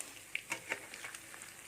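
Mackerel with bird's eye chilli frying in oil, heard as a faint, close patter of sizzling pops and light spatters, sparse and uneven, with no talking.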